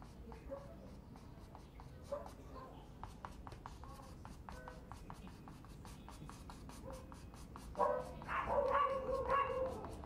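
Several dogs bark near an acrylic painting session, sharp repeated yaps scattered through the clip and growing louder and busier toward the end, with brush scratching on canvas underneath.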